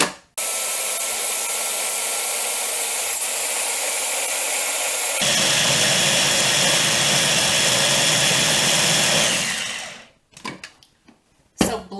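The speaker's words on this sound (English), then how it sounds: "So blend it up and it's nice and creamy." A blender purees cauliflower with a few tablespoons of liquid into a creamy mash, giving a loud, steady whirring roar for about ten seconds that shifts pitch partway through, then cuts off into a few clattering knocks.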